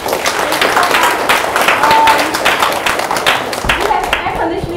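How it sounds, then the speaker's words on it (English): Loud, close applause for a speaker at an open source software talk, a crowd clapping vigorously throughout, with a voice briefly audible near the end. "So can we all give Anna a big round of applause once more?"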